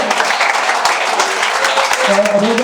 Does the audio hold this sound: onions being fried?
no